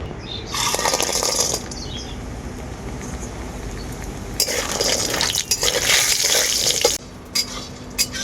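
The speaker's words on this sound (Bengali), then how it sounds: "কড়াইতে এখন দিয়ে দেবো সরষের তেল" Mustard oil pours into a hot wok, giving a bright hiss and crackle that rises in two bursts with small metallic clinks in between.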